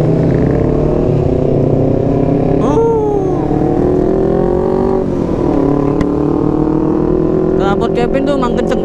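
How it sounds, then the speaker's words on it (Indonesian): Loud motorcycle exhaust drones continuously while riding on the road, with sport bikes such as a CBR250RR, MT25 and Aerox in the group, the engine note rising and falling through revs close to the microphone. "Knalpot Kevin tuh emang kenceng banget dah, asli"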